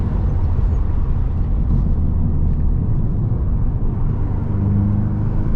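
Stage 3 Audi S3 8V tuned to 530bhp accelerating hard with traction control on, a loud, steady low engine rumble and road roar close by, with no talk.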